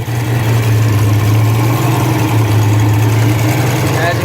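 A turbocharged Mustang 5.0 with an On3 Performance turbo kit idles cold after a month unused, its exhaust cutout flap loose. A loud, steady low rumble runs close and unbroken.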